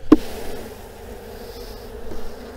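Honey bees buzz steadily at an opened hive as it is worked before winter, a close, continuous drone after a brief knock at the start, with no voices.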